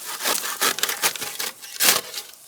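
Black bamboo roots being cut while the plant is divided, with harsh rasping, sawing strokes in uneven bursts, close and fairly loud, and no voices.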